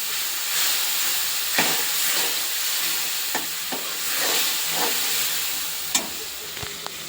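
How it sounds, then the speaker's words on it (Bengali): Masala spices with cumin and ginger fry in hot oil, a steady close sizzle and hiss broken by occasional sharp crackles and stirring clicks, with no talking over it. "জিরে আর আদা। তো ভালো করে এখন মশলাটা কষিয়ে নেব।"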